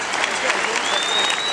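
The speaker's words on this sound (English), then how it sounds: "Give them a big round of applause." A crowd applauds the cadets and juniors at the start of stage two of the 2014 Tour de France. The clapping is loud, continuous and broad, with a voice speaking over it and a thin tone running through.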